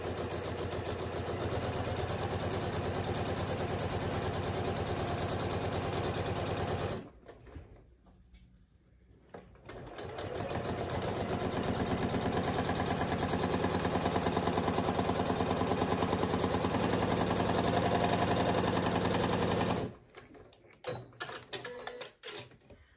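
A sewing machine runs a 1/4 inch straight seam through cotton face mask layers, lining and top piece, in two long steady bursts of whirring stitching separated by a short pause, loud and close with no talk.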